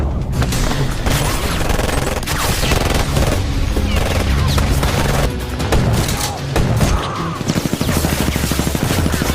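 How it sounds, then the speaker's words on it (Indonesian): Dense, loud gunfire from a movie scene, with rapid bursts and booming shots piling up continuously, ending in a fast rattling automatic burst. "baku tembak sengit pun terjadi"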